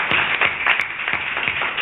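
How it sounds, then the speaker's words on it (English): Applause at a cricket tournament event, a thin scattering of individual claps in an irregular rhythm from a small crowd, close and moderately loud, with no talk. "So give her a round of applause for"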